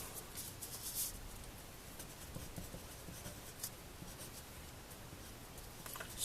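A pen draws a graph of a rational function on paper. Faint, continuous scratching strokes sound close to the page in a quiet room.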